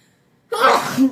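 A single close, forceful sneeze bursts out after a second of near silence, during a bride's wedding-day makeup session with a brush.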